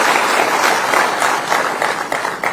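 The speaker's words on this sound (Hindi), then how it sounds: "एक बार आप भी ताली बजा के हृदय से स्वागत" An audience at an official event on sickle cell disease claps in welcome, a loud, dense burst of applause that fills the short moment from start to finish.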